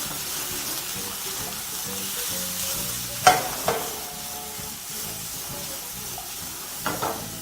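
Onions tossed into a hot, flaring pan for teriyaki chicken wraps, giving a continuous close sizzle with a couple of sharp clanks of the pan and utensil midway and near the end.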